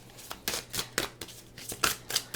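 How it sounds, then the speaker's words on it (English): Tarot cards being shuffled at a quiet table, a series of soft riffling and slapping bursts in an uneven rhythm, close and fairly faint, with no talking. "I'm just going to shuffle the cards and lay them out"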